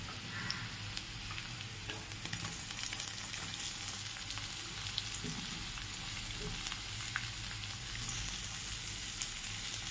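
Garlic and onion fry in a pan with a steady, close sizzle and crackle that runs the whole time, broken by occasional stirring scrapes and clicks, with no voices.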